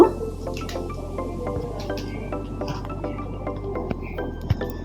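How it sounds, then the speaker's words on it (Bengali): Kewra water drips and splashes into a pot of beef and potato rezala, with small wet squishy sounds and a faint clink over a low steady hum; no talk. "তারপরে আপুরা কিছু কেওড়া জল দিব"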